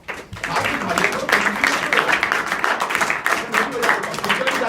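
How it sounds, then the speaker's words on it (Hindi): Students clap together at a school education session, a dense burst of applause that swells quickly and carries on steadily, loud and close, with voices mixed in. "जितने लोगों ने बोला सबके लिए ताली बजा दो।"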